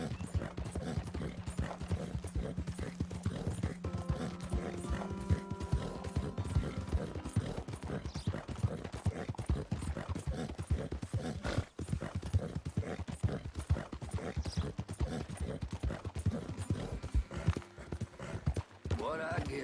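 Horse hooves clip-clop steadily and close in Red Dead Redemption 2, with a whinny partway through, a sustained musical tone underneath and speech mixed in.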